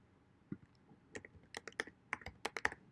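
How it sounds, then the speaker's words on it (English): Quiet keystrokes as a password is typed on a computer keyboard, an irregular run of soft clicks that grows busier toward the end, close and alone. "So we're going to type in blah"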